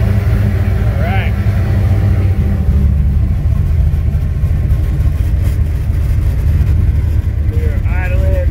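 A turbocharged 351 Windsor V8 in a junkyard-built car idles at about 800 rpm, a steady, loud low rumble that runs throughout, with brief voices over it.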